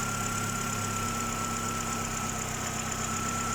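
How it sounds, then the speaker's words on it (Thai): A Proton Gen2 car engine, after cylinder head skimming, idles steadily with a low, even hum and faint mechanical ticking, continuous and close, with no voices. "นี่คือเครื่องยนต์ที่ ทำงานสมบูรณ์ครบทุกสูตรนะครับ"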